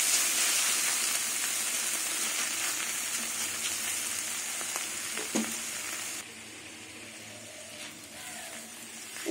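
Mushrooms frying in a pan alongside soft carrots give a steady, close sizzle with occasional stirring clatter; the crackle drops noticeably quieter partway through and continues more gently to the end.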